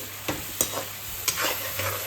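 Chickpeas fry in a hot pan, giving a steady sizzling hiss broken by a few sharp clicks from stirring, with no one talking.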